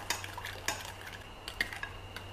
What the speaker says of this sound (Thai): ทีนี้เราก็คนให้น้ำตาลละลาย